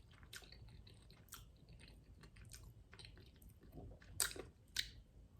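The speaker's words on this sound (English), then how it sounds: "I'm trying to chew on both sides because I've gotten so used to chewing only on the left side" Close, quiet chewing of a White Castle slider, with soft wet squishes and a few sharper bites spaced irregularly, the loudest near the end.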